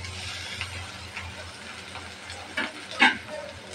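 Okra is tipped into a pan of onions frying for a bhaji with prawns, and a soft, steady sizzle follows. A few brief clatters of stirring break through near the end.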